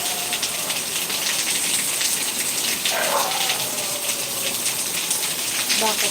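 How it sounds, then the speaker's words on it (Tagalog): Heavy rain pours steadily on a rainy night, a dense and loud hiss that fills the whole span, with faint background sounds drifting through it. "lumakas yung ulan"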